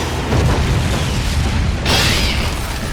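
A fireball pitch explodes in a motion-controlled horror baseball video game as a dense, roaring blast that holds loud and steady, then brightens with a hissing burst partway through.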